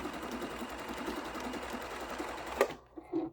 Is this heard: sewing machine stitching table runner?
yes